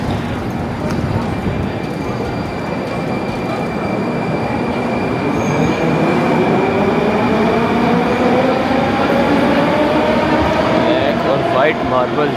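A Moscow metro train runs through a marble-clad underground station about 50 metres deep, a loud, steady roar with rising wheel whine and squeal that grows toward the end.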